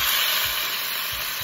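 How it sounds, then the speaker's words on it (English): Chicken pieces sizzle in a Viking skillet for a stir fry, a dense, continuous frying crackle and hiss, close and steady with faint low thumps underneath. "You hear that sizzle?"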